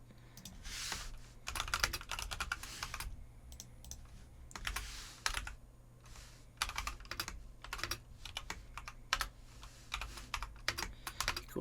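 Rapid typing on a computer keyboard while entering a formula into a study app: bursts of light, quick clicking keystrokes with short pauses between, close and quiet, with no speech.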